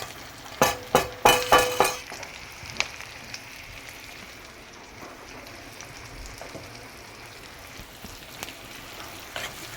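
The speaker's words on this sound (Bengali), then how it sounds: "এবং পেঁয়াজটাকে ব্রাউন হওয়া পর্যন্ত ভাজবো।" Chopped onions tipped into hot oil for a simple egg curry, giving a quick burst of sharp crackling spatters that settles into a faint, steady sizzle with occasional pops, close and alone.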